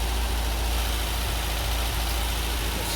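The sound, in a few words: MGB GT engine idling during ignition timing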